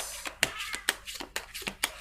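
Several cats meow in short bursts, one after another, with a few brief high cries spread across two seconds close to the recorder.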